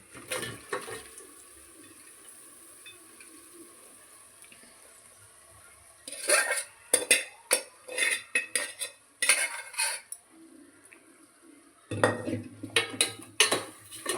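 A spoon scrapes and clatters against a pan as goat head curry is stirred, with bursts of metallic stirring separated by quieter pauses, close and fairly loud.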